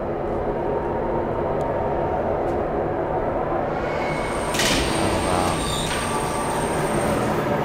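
A jet-powered maglev tram in the video game Riven roars past at speed, a loud, steady rushing drone with a bright whine that swells midway through and holds, no voices over it.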